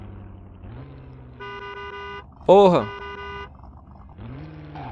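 A car horn in the Driver video game blares in one short, loud honk amid game engine drone and other tones, and someone speaks briefly around it.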